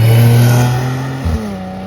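A rebuilt, previously crashed Audi S5's engine holds a loud, steady revving drone whose pitch sinks slightly, with a brief throttle blip near the end.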